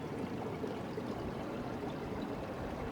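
Water flows steadily along a hiking trail where the path crosses over it, a close, continuous rushing with no voices.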